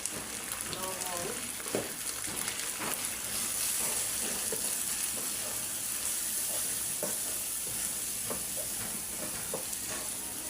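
Onions sauté in an oiled pan until soft, a dense, even sizzle running steadily for the whole stretch, with light stirring ticks and faint talk underneath.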